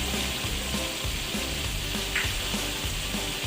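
Julienned ginger and fresh coriander fry in a kadhai for koyla kadhai, giving a steady, close, even sizzle with faint stirring clinks throughout and no talking.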